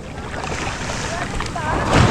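Waves hitting a small boat at sea during a rough landing, a constant loud wash of water and wind rush with swelling surges, close and unbroken, with faint voices under it.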